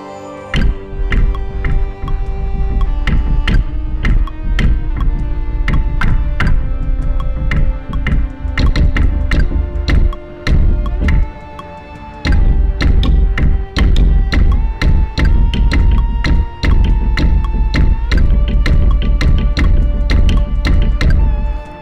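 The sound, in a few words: synth bowed double bass, percussive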